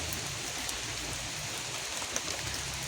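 Light rain falls outdoors near a burning bonfire, heard from a covered porch area as a soft, steady patter with a few sharper drops, and no voices.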